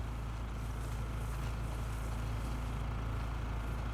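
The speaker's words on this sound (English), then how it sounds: "Aren't the infected like drawn to the sound of that engine?" A vehicle engine idling in The Last of Us Part II, a low steady rumble that holds evenly throughout at a quiet level, with no talk.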